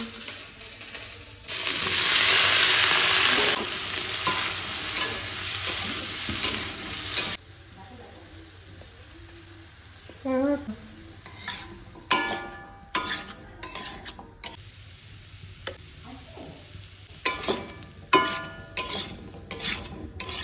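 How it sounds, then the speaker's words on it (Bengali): Potatoes tumble into a pan of onions, green chillies and dried red chillies; a loud burst of sizzling frying is followed by scattered clinks and scrapes of a spatula stirring against the pan. "তার জন্য এখানে পেঁয়াজ দিয়ে দেওয়া হয়ে গেছে, পেঁয়াজ আর কাঁচা লঙ্কা, শুকনো লঙ্কা। এখন আলু দিয়ে দেবো।"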